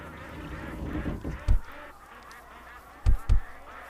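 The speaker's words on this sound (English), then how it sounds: "Those ducks are not a part of the attraction." Ducks in the Second Life virtual world honk and quack in a few short, loud calls: one near the middle and a quick pair near the end, over a steady hum of background ambience.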